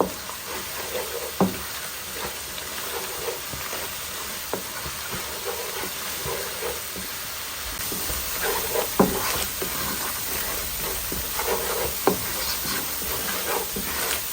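A spice masala fries hard over high heat for a bottle gourd and boal fish curry, sizzling steadily and close, with occasional sharp clacks of a spoon stirring through it.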